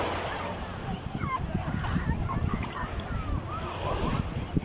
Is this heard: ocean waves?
yes